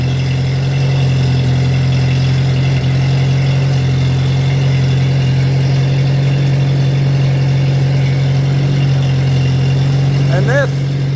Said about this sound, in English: There's his Allis Chalmers C tractor.